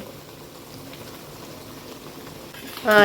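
Stone crab with eggs cooking into sukka in ghee and masala in a pan, giving a steady close bubbling sizzle that swells into a louder burst of spattering near the end.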